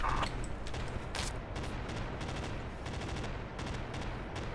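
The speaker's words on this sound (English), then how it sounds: "They've got a machine gun." Machine gun fire in the military shooter game Project Reality, a sustained series of rapid gunshot bursts and scattered cracks over a constant loud background rumble, with no talking.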